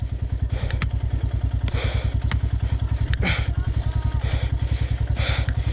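A motorcycle ridden on a muddy, slippery mountain road from Tawang toward Madhuri Lake, its engine thumping in a steady rapid beat, close and loud, with clattering and rattling from the rough terrain.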